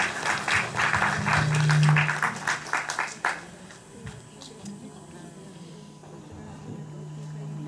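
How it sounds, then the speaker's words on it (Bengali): An audience breaks into applause for Tapati kakima at a Durga Puja celebration, a dense burst of clapping over the first three seconds that fades into room murmur and voices. "একটা জোরে হাততালি হয়ে যাক"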